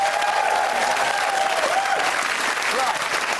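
A studio audience on a British daytime TV talk show breaks into loud, sustained clapping that fills the whole stretch, dense and steady, with a voice faintly present beneath it.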